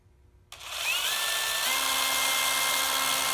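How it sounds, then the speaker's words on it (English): A DeWalt power drill spins up and bores into a wooden picture frame, a loud steady whine that starts abruptly and holds without pause, with no voices. "And obviously I'm just gonna drill this"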